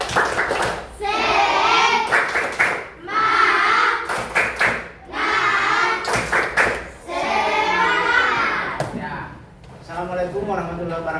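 A group of children chants a rhythmic tepuk semangat clapping cheer in short, loud sung phrases separated by brief pauses, with claps and thumps mixed into the voices.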